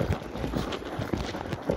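A horse in early training for a futurity moves along with rhythmic hoofbeats clip-clopping at a quick, even pace, moderately close over a low background, with no talking.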